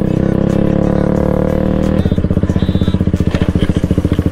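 A motorcycle rides off-road through thick mud, its engine loud and close, droning steadily at first and then switching to a rapid, pulsing chug after about two seconds.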